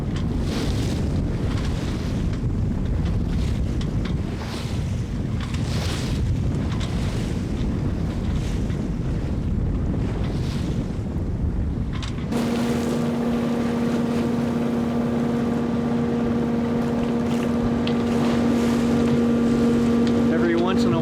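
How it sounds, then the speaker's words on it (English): A Shannon 28 sailboat motors against the wind with its sails dropped. Gusty wind rumble and water rush come first, then a steady engine drone holds close and constant for the rest, with no talk. "have dropped my sails and am motoring against the wind at this point"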